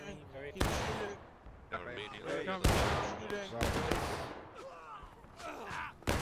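Musket volleys in War of Rights crash out as several loud, ragged bursts and scattered shots, near and echoing, mixed with distant shouting and talk from players.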